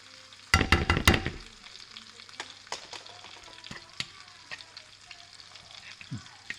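Lemon butter sauce with lemon zest sizzles in a pan, opening with a loud burst of spattering crackle that settles into a softer, steady fizz with occasional clicks and scrapes.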